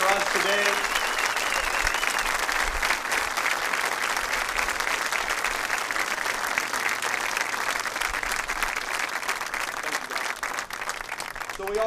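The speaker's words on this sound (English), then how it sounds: "One more round of applause for the marching band and for the choir who came out for us" Sustained applause from a convocation crowd at a school event, honoring the marching band and choir, dense and steady throughout with a brief spoken word near the start.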